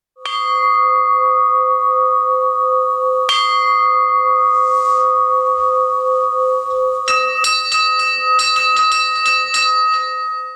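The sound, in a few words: old church bell ringing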